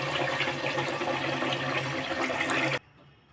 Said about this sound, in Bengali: চাউলটা ধুয়ে প্রথমে বসিয়ে দিয়ে নিই